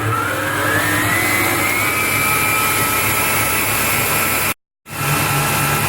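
An electric mixer whips egg whites for a chocolate mousse, a loud steady motor whir with a rising pitch that runs nearly throughout, broken by one brief stop before whirring again.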